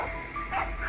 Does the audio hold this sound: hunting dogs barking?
yes